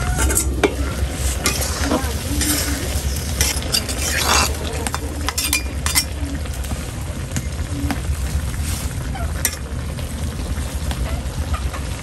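Onions fry in a pan with a loud, steady sizzle, broken by occasional stirring scrapes and clinks, close up and continuous throughout.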